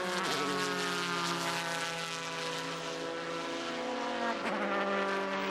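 Super GT race cars, including a GT300 Porsche, screaming past at Sepang circuit, a sustained high-pitched engine whine with a sharp pitch drop as one car passes near the end, heard at a distance.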